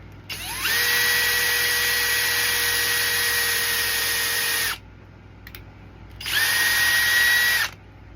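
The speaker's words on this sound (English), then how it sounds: "I'm going to drill into the center, straight down into the center of the" A small power drill whines at full speed for about four seconds while drilling straight down into the center of a block, stops briefly, then runs again in a second shorter burst.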